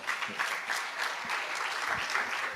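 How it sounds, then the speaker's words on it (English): An audience gives sustained, even applause for Stanley Koza at a stand-up comedy show, dense clapping filling the whole stretch without pause. "ladies and gentlemen, clap hands for Stanley Koza"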